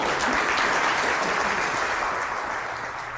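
A crowd of staring onlookers bursts into applause, a loud, dense wash of clapping that holds steady and fades slightly toward the end.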